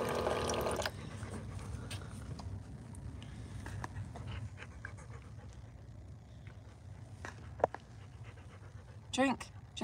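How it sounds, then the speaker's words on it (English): A dog pants steadily and close by during a truck camping stay, with faint splashy liquid sounds and a brief whine near the end. A person speaks briefly at the start. "This dog is so cute."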